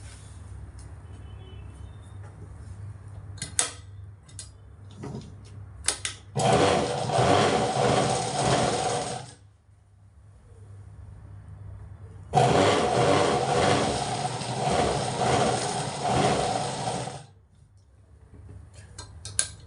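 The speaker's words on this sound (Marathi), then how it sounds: "ह्या ठिकाणी आता आपल्याला शिलाई मारून घ्यायची आहे" A domestic sewing machine stitches a seam on an old blouse that is being let out. Two long, loud bursts of steady whirring and clatter are separated by quieter pauses that carry small handling clicks.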